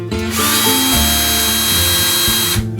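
A power drill spins a carbide primer pocket uniformer into brass cartridge cases for reloading, whirring loud and steady for about two seconds, its pitch dipping briefly under load before it winds down.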